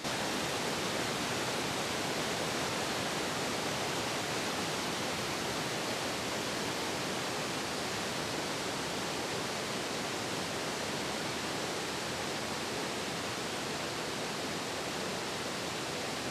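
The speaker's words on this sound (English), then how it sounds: "a very impressive spring runoff going on in this creek here" Loud, steady rushing water of a creek swollen with spring runoff fills the whole clip, a dense unbroken roar close by, in alpine wilderness.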